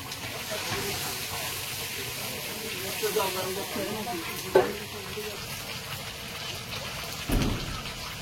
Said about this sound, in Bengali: মশলাটা একদম রেডি, এবারে জল দিয়ে দেবো।